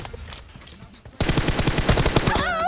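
Rapid gunfire from a mobile shooter game in a one-on-one team deathmatch, with sparse shots at first and then a loud, dense burst of repeated shots for the last second and a half.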